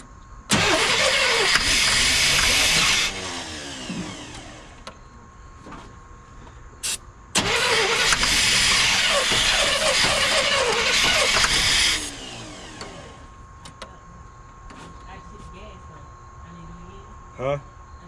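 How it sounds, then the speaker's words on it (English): A 1989 GMC Sierra 1500 single-cab stepside pickup engine cranks loudly in two long bursts of several seconds each, separated by a short pause, with brief sputters in between and no clean catch, while voices talk nearby. "go ahead and try to start it"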